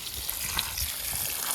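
Water flowing to irrigate coconut trees on a farm, a short steady rush of running water, close and continuous without any voices.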